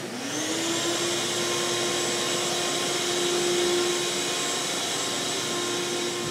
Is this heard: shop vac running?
yes